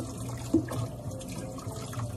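Running tap water pours steadily over cassava roots being washed in a kitchen, with a brief splash early on and a continuous low rush throughout.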